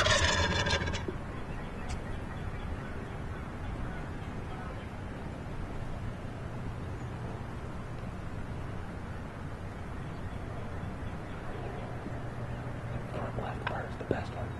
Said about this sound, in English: these turkeys are coming from our right to our left